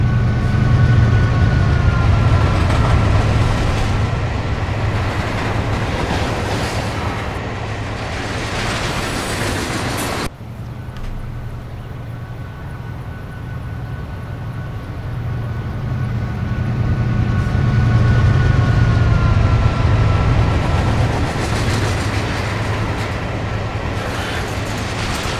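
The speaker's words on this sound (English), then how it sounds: "we've got a really long train" A long train rumbling along the line in Train Simulator 2017 between St Phillips Marsh and Severn Tunnel Junction, a loud continuous low roar with faint wheel squeal and clatter, briefly dipping midway before swelling again.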